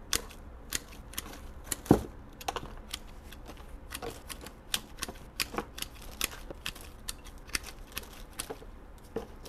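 Scissors snip hoya plant cuttings at close range, a string of sharp crisp clicks and cuts at an irregular pace over quiet background, one louder snap near the start.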